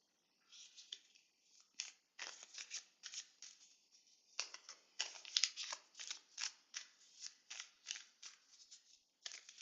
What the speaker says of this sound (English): let's draw a few more cards